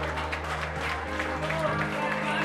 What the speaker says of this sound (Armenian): Ծափարություններ խնդրում եմ